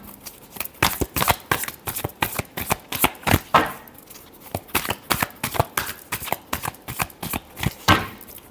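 Tarot cards shuffled close up in a long run of quick, crisp riffling bursts with brief pauses between rounds, and no voices.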